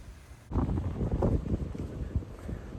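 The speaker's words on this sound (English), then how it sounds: "It's quite windy today." Strong gusty wind blowing outdoors on a cold, stormy day of high winds, buffeting the microphone with loud, uneven rumbling gusts that kick in abruptly and keep surging.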